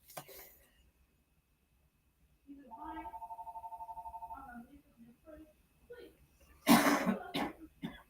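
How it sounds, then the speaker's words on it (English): Coughing and throat clearing close to a phone, with a sharp burst of harsh coughs near the end after a stretch of ringing tone and muffled talk in the background. "I do apologize for the coughing in the phone."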